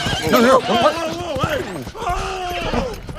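A horse whinnies in a horror film: a loud, wavering neigh rising and falling in pitch over a few seconds, close and prominent, with a second long whinny near the end.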